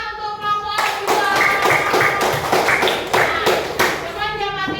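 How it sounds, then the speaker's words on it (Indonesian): Classroom applause for a student group: steady clapping from several hands fills most of the span, loud and continuous, with children's voices mixed in at the start and end. "Oke, tepuk tangan untuk kelompok 2."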